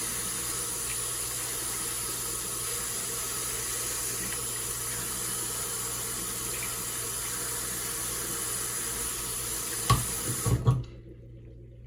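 Running water from a tap pours steadily into a sink while hair dye is rinsed off fingernails, a continuous close splashing hiss that ends abruptly with a few brief knocks near the end.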